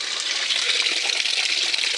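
Water gushing steadily from a leaking pipe, a continuous loud hiss of running flow close by, with no talk.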